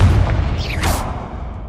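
A Confringo fire-blast spell from the wizarding game Hogwarts Legacy, a short whooshing burst followed by a bright hissing flare and a dull boom over low ambient rumble.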